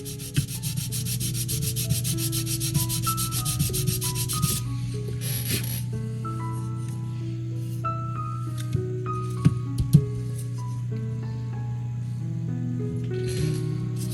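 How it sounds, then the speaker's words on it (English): Wood being sanded by hand on a 1:400 scale model of the S.S. Edmund Fitzgerald: continuous close rubbing strokes over a steady low electrical hum, with a couple of small knocks near the end. "I didn't really want to gouge into the wood. It's easier to sand it."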